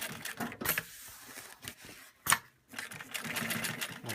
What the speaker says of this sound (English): But with the servo motor, I can control it so easily.